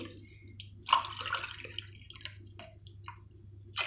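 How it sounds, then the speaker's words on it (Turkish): Water poured over sugar in a pot to make syrup for kalburabastı, a Turkish syrup-soaked dessert. It gives quiet, intermittent splashes and drips over a low steady hum, with no talking. "İçerisine 4 su bardağı su ilave edeceğim"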